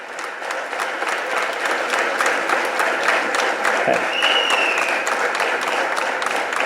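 Large crowd applauding at an outdoor political speech event in Tamil Nadu, dense continuous clapping throughout, loud and close, with a faint voice briefly rising within it.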